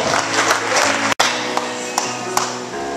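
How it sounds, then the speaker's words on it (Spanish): A church congregation applauds loudly and continuously, the dense clapping briefly cut off before resuming at full strength. "Denle un aplauso a su Dios."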